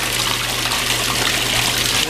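Water running steadily during a baby's bath, a loud, continuous splashing rush like a tap pouring into a tub, filling the whole moment close up with no voices over it.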